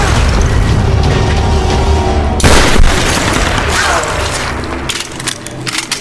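Gunfire in the Tomb Raider video game: a dense, loud roar of shots and booms runs throughout, with a sharp blast near the middle before the barrage thins toward the end.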